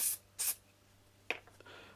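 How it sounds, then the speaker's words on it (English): Two quick hissing bursts of aerosol cleaner sprayed through the carburetor of a Peugeot Looxor scooter, then a softer spurt with faint clicks, close by in a quiet space. "I will put a bit of spray just through it,"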